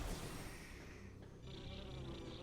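War wasps in the video game Metroid Prime buzzing in a steady, faint insect drone that wavers slightly, with no talk.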